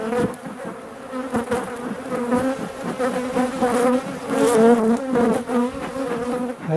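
Honeybees buzzing around an opened hive, a close, dense swarm drone that swells and wavers with individual bees passing near.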